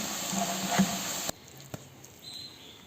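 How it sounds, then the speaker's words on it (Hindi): Chicken shami kebabs frying in a pan, a soft sizzle and crackle with a few faint pops, heard up close and fading quieter halfway through. "मैंने साइड इसकी पलट दी है और अब ये फ्राई हो गए हैं"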